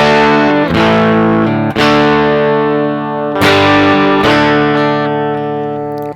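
Electric guitar run through a NOTADÜMBLË pedal set to boost, ringing sustained chords with a clipped, driven edge; several strong strums decay slowly, close and loud with no talking.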